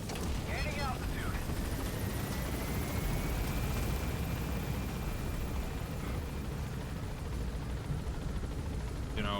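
Video game helicopter roaring in a steady broadband drone as it climbs, with gunfire-like bursts and scattered game effects mixed in, continuous throughout.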